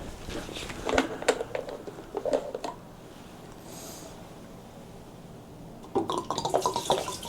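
Fresh two-stroke fuel is poured into the drained tank of a red BSA Bantam D10 motorcycle, giving close liquid splashing and patter in two bursts separated by a quiet gap.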